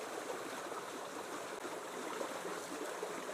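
Irrigation water flowing along a garden channel in Taft, Yazd, a steady soft rushing trickle that stays even and continuous with no talk over it.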